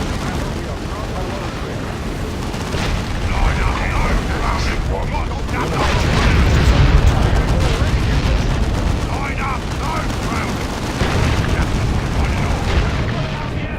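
Battle in the Dawn of War 2 Chaos Rising video game, with dense rattling gunfire and repeated heavy explosions rumbling throughout, and voices calling out over the combat.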